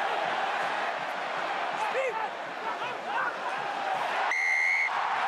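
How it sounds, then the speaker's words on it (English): A rugby crowd at a French Top 14 match between Pau and Clermont cheers in a stadium, a dense, sustained roar with a whistle near the end, under a commentator's voice. "The crowd are cheering home."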